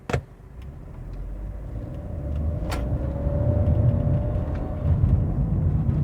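Peugeot 208 1.0 turbo with CVT accelerating at full throttle in Sport mode off, a steady engine drone and road rumble building gradually with a rising tone, heard from inside the cabin without talk.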